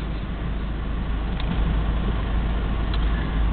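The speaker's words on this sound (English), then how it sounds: "And we'll let this truck pull out here on the left." A truck pulls out onto the road on the left near a military camp gate, heard as a steady, loud broadband vehicle rumble with low engine drone throughout, no talk.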